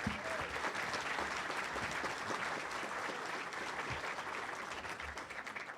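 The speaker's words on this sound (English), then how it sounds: "How about a round of applause for round one?" An audience at a Cook County Board President Democratic primary debate applauds steadily for several seconds, a dense, even patter of clapping heard from within the room.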